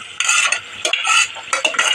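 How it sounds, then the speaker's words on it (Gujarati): Paneer hitting hot oil for tempering, bursts of loud crackling sizzle in short pulses with brief gaps, close and without voices. "તો પનીરને વઘારવું પડે"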